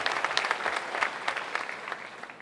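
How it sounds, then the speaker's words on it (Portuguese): Congregation applause at a church service, brisk, continuous clapping from a group that stays steady through the short stretch. "dá uma salva de palmas para esse texto aí"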